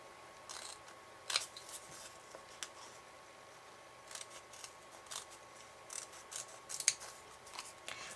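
Scissors cutting an opened package, heard as faint, close snips and crinkles spaced over several seconds in a quiet room.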